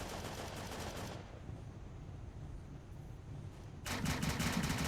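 Quad 50 machine gun in a Vietnam War video game, rapid sustained bursts of heavy gunfire, with a short quieter gap midway before a louder burst resumes, no talking.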